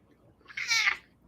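A cat meows once indoors, a short, fairly soft call that rises and then fades.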